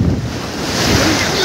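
Sea waves wash steadily onto a Goa beach, a loud, continuous roar of surf mixed with heavy wind buffeting the microphone, close and unbroken.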